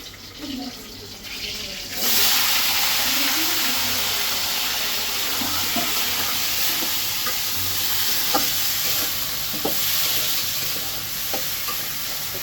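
Cut potatoes and pointed gourd fry in an oil-filled pan, a steady loud sizzle that starts abruptly and continues, broken by occasional spatula stirring clicks.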